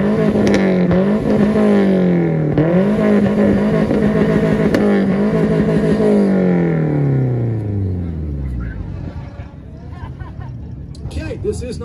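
A Nissan revving hard in a rev battle at IFO in Bakersfield, California, loud and close, holding high revs with repeated bounces before the pitch drops and falls away, crowd chatter beneath.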